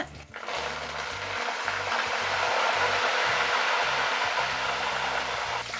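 Garlic and curry leaves fry in hot oil, giving a loud, steady hiss and crackle that runs unbroken for about six seconds, with a low intermittent rumble underneath and no talking.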